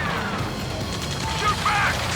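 Gunfire crackles through a ground battle in the combat flight game Ace Combat 7, with bursts of shots and impacts under shouted radio chatter and a dense, continuous background din.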